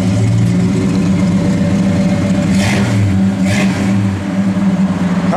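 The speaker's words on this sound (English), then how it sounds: "Car sounds good." The engine of a 1966 Chevrolet Chevelle SS convertible runs loud and close, a steady rumbling idle with a couple of brief throttle blips lifting the pitch in the middle before settling back.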